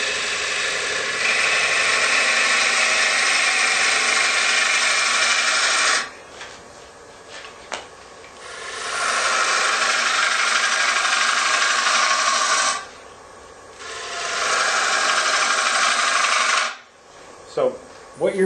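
Wood lathe cutting a turning with end grain starting to tear, a loud rasping grind in long bursts broken by quieter pauses where a faint motor hum remains.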